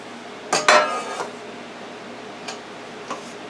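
A metal casserole pan for sausage ziti is picked up and set down, giving a couple of close, sharp clanks followed by two fainter knocks a moment later.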